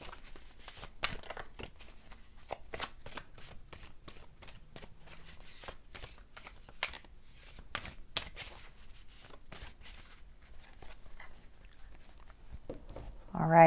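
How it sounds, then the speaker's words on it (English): Tarot cards shuffled by hand in a steady run of crisp, riffling flicks and slaps, close and fairly quiet, with no talk over them until a brief louder sound at the very end. "So I'm going to go ahead and just finish shuffling here"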